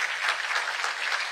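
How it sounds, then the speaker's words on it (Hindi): Loud, dense applause from an audience at an interview event, a continuous roar of many hands clapping with no pauses. "मैं चाहूंगा जरा इस पर एक बार जोरदार तालियां हो।"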